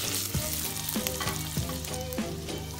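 Butter, garlic and thyme sizzle in a pan with a steady close frying crackle. Faint rhythmic clicks of stirring or shaking sound under it, and no one speaks.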